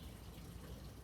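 Hot water runs from a tap to rinse out a homebrewing pot, a steady faint splashing stream with no voices.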